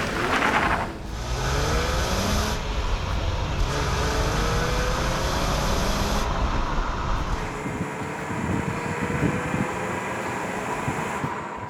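A stick-shift Jeep Wrangler with a six-speed gearbox drives along, its engine a loud steady drone with rising pitch through the gears and constant road rumble, no talking.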